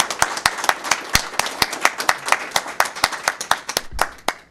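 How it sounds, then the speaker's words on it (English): A small audience at a school board public meeting claps in sharp, distinct individual hand claps, a steady irregular patter close by, tapering off near the end. "Round of applause."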